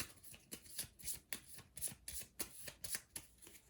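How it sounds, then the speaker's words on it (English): Cards from the Legendary: Buffy the Vampire Slayer deck-building game are riffled and shuffled again and again in a quick, steady rhythm, close and fairly quiet, with no talking. "Shuffle up Mr. Left's discard."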